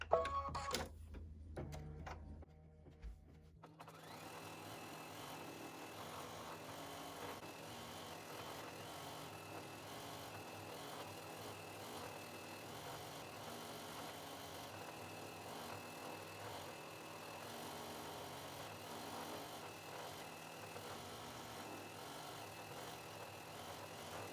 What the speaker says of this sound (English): let's go ahead and quilt our quilting motif.